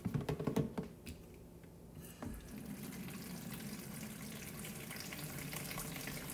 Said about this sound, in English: So we're gonna fill these guys up with water.